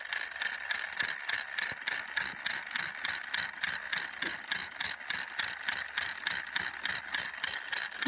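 The gearbox of a motorized Trackmaster Gordon toy train makes a steady, evenly pulsing whirring rattle with rapid regular clicks, close up and continuous, with no talking.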